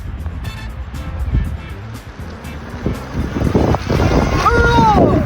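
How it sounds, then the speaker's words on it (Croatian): ENGWE EP-2 electric bike pulling away from a standstill on boost: heavy wind buffeting and rumble throughout, with a brief rising motor whine near the end. "A sada ćete vidjeti kako izgleda sa boostom od starta"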